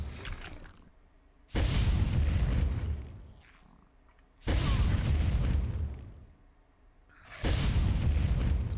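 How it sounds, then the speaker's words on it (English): Gunfire and explosions in the video game Entropia Universe, with three loud, broad booming blasts about every three seconds, each swelling and fading into a low rumble, with no talking. "They're all firing guns."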